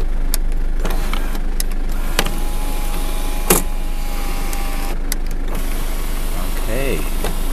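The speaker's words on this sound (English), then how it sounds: "I'll do the test for the sunroof" Electric sunroof of a 1999 Mitsubishi Spacegear Exceed 4WD with 2.8 L turbo-diesel, tested inside the parked vehicle: a close motor whir with a few clicks and thumps over a low idling hum, plus a brief voice.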